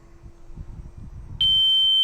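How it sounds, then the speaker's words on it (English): An expiration timer on an FMS MXS V2 1100mm RC plane sounds a sudden, loud, continuous high-pitched electronic beep that starts abruptly after a quiet stretch of faint background noise. "I believe that's our expiration timer."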